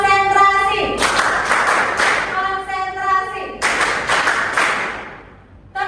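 A classroom group claps hands together on a teacher's command, producing bursts of loud collective clapping with short pauses between, mixed with voices and chanting.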